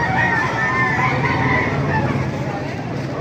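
Chickens and a rooster at a busy Baliuag market, clucking and crowing under steady crowd babble and talk, the bird calls mid-distance and mixed into the constant noise.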